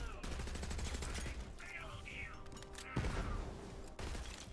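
Rapid automatic gunfire from a weapon in the video game Borderlands 3 rattles in dense bursts, mixed with other game effects and a voice talking over it.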